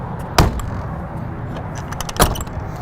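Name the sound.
closing the door of a Logan Coach horse trailer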